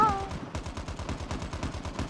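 Rapid automatic gunfire in the mobile shooter game Call of Duty Mobile, a steady stream of punchy shots in a fast even rhythm lasting the whole moment, loud and close.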